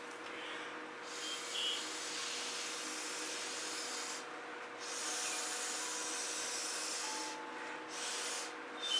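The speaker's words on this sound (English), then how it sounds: "And use a straw and blow it around." Air blown through a drinking straw pushes wet fluid acrylic paint across a canvas, a steady close hiss of breath with brief pauses where the blowing stops and restarts.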